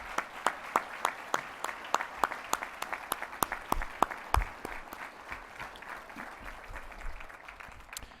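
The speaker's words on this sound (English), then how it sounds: "let's give them all a round of applause" Audience applause at a 2015 North Dakota State Bison athletic hall of fame induction ceremony: a sustained round of clapping from a seated crowd, with sharp individual claps standing out. It tapers gradually over about eight seconds.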